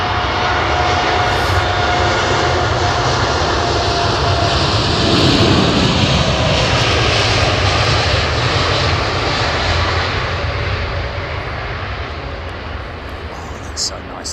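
A Kenya Airways jet airliner departing London Heathrow for Nairobi, a loud, sustained engine roar filling the air throughout, swelling at the middle and easing slightly at the end, with voices talking nearby.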